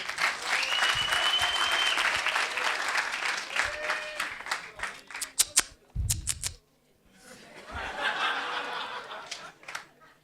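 A comedy crowd claps loudly and steadily for the comedian, with scattered laughter mixed in; the clapping breaks off briefly for a few seconds and then swells up again.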